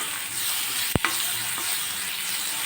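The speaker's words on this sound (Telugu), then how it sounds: "టమాటో అయితే మెత్తగా అయ్యాక కొద్దిగా పసుపు వేసుకొని బాగా కలపాలి" Softened tomato with turmeric being stirred in a pan, a soft continuous sizzle broken by one sharp scrape or clank of the utensil near the middle, close and alone.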